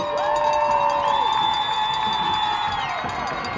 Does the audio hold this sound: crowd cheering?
yes